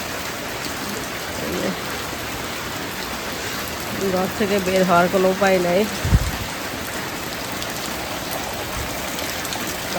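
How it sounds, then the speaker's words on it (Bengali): Heavy overnight rain falls in a steady, loud wash of hiss throughout, with a person speaking briefly over the downpour midway. "কালকে রাত থেকে সারা রাত বৃষ্টি"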